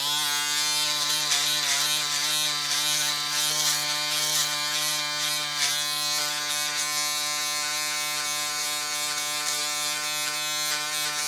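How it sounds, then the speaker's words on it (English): Electric hair clippers run continuously while fading hair, a close, steady motor buzz with slight shifts in pitch as the blades move through the hair, and no one speaking. "You could go back with your trimmer and touch it up."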